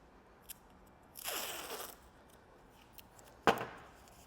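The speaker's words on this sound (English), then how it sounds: "I'm going to use some masking tape" Masking tape rips off its roll in one quick, raspy pull, laid along car trim beside a headlight for protection; a single sharp click follows a couple of seconds later, all fairly quiet.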